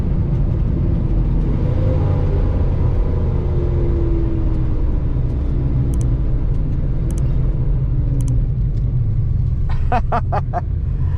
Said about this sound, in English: we got a little backfiring going on